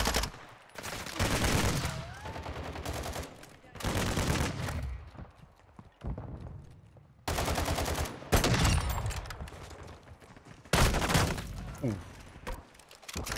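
Pump-action shotgun blasts boom in Call of Duty Warzone 2.0, several loud bursts of firing separated by brief quiet gaps, with speech mixed in between the shots.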